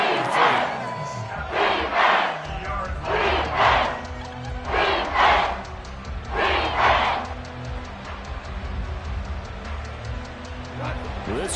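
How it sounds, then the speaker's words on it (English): A stadium crowd in a PS5 American football video game chants and roars in five steady rhythmic surges, then settles into a constant loud rumble, with a commentator talking over it. "This crowd doing all they can."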